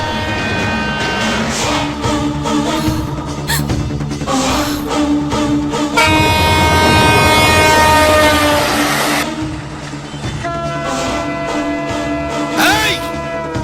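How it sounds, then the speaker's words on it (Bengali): A train draws near during a tense standoff on railway tracks, its rumble and a sustained horn blast rising loud and close over a dramatic film score, with people speaking at points. "ওই দেখো, ট্রেন আসছে।"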